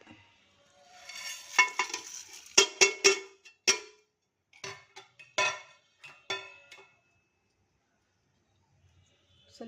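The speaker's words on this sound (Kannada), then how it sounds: "ಇದೆಲ್ಲ ಸ್ವಲ್ಪ ಚಟಪಟ ಅಂತ ಸಿಡಿಲಿ" Mustard seeds, lentils, fenugreek, cumin and curry leaves crackle in hot oil for a tempering, with a dense run of sharp pops and spatters that thins out and falls quiet after a few seconds.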